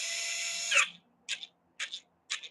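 A power drill driving a screw into timber whines steadily, then stops and gives three short, sharp bursts in a row, close up.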